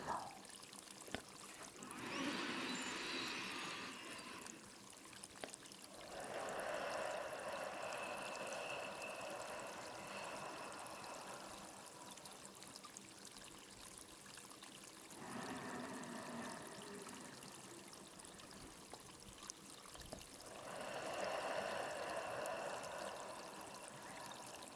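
Water flows and trickles in a forest stream, soft and steady, swelling in gentle waves of pouring sound every few seconds against a quiet background.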